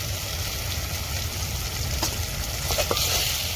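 Tomatoes fry and sizzle in a pan as biryani masala is stirred in for egg biryani, a steady close hiss broken by a few soft scraping stirs.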